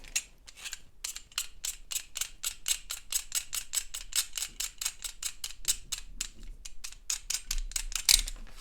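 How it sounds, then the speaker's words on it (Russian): A pencil is sharpened to a fine point with quick, rhythmic scraping strokes, about three or four per second, close and fairly loud with no talk. "Надо подточить получше карандаш, чтобы он был такой остренький."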